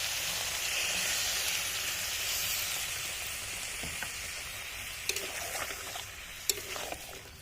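Goat meat scraps sizzle in a pan as a little water is added, giving a steady, loud frying hiss that eases slightly, with a few sharp stirring clinks toward the end.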